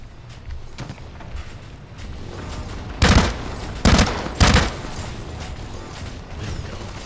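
Gunfire in the shooter game Blacklight Retribution: short bursts and single shots crack out, with three loud blasts close together midway, over mechanical clicks and background game noise.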